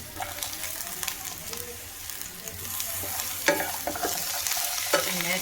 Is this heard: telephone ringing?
no